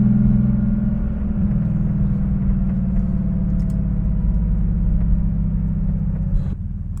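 A 1985 Porsche 911 3.2 Carrera flat-six with a Fabspeed muffler delete, cold-started and running close and loud with a deep, steady exhaust rumble that drops off slightly near the end.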